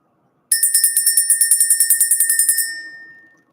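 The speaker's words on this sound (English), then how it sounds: "Let's ring the bell." A small bell rings in a rapid trill of about twenty bright, loud strikes over two seconds, then fades out alone in silence.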